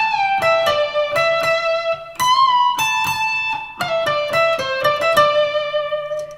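An electric guitar plays a lead passage: sustained, singing notes with quick plucked attacks, slides and pull-offs, loud and close, played alone with no voices.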